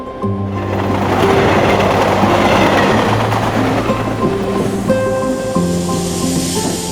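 A suburban train in Mumbai rolls along the rails, a loud continuous rumble with rhythmic clatter and faint squealing tones, heard from inside the carriage without speech.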